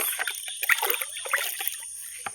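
Eggplants in a home garden being watered, with water trickling and splashing irregularly onto plants and soil close by, in a steady dribble with small splatters.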